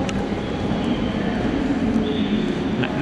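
A train in the Netherlands is slowing toward a station, giving a steady low rumble and rolling rail noise. It holds at an even, moderate loudness for a few seconds with no voices.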